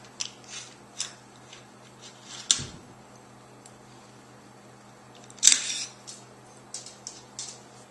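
An AR-15 bolt carrier group and charging handle slide out together during a field strip, giving light metallic clicks and a couple of sharper scraping snaps, close and quiet.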